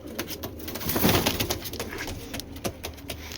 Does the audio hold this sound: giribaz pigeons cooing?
yes